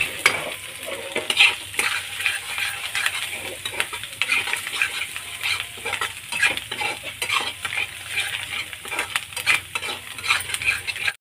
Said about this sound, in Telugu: సాల్ట్, కొంచెం గరం మసాలా, కొంచెం కరివేపాకు, కొత్తిమీర వేసుకుని సిమ్లో పెట్టుకుని ఫ్రై చేసుకోవాలి